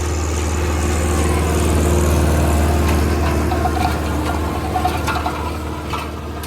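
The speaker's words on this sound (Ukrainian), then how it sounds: "Трактор ходить четвертою робочою." A YTO EX 804 tractor pulls an AGD 2.1 disc harrow through a soybean field in fourth working gear, giving a steady, loud low engine drone with rattling and clanking from the implement.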